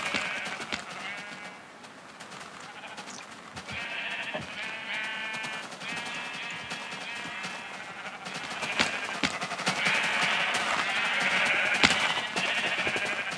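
Sheep in the Minecraft video game bleating repeatedly, overlapping calls from a large flock coming in bursts, with people talking over them at times.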